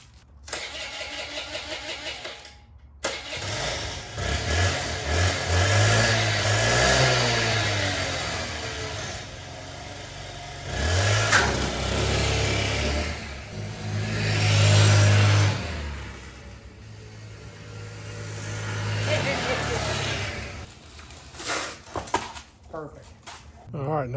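A moped engine starts and runs through a test drive, a buzzy mid-pitched motor revving up and falling back in repeated surges, loud and close, with a person talking at times.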